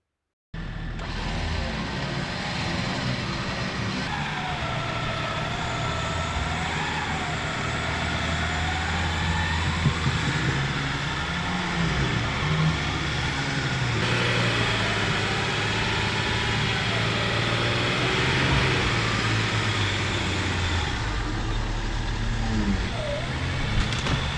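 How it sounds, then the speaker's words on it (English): A lifted Range Rover L322 on 35-inch tires labours up a sand slope in a quarry while a winch helps it. The engine drones loudly and continuously, its revs rising and falling as it strains. "The winch is doing its job, but the SUV struggles."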